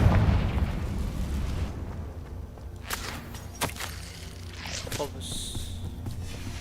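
In the Hogwarts Legacy video game, the Confringo spell bursts with booming explosions and crackling impacts amid game sounds, with a voice calling out over the action.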